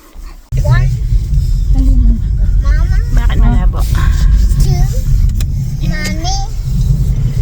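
A family car drives along with a steady engine and road rumble throughout, under a child's and adults' chatter inside the cabin.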